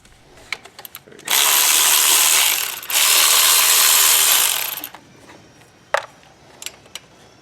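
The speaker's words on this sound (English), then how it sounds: "remove all these 10mm bolts holding the exhaust manifold to the cylinder head" Two long bursts of a power tool whirring loudly, zipping 10mm bolts off a Chevy Cruze exhaust manifold at the cylinder head, with a few metallic clicks and taps before and after.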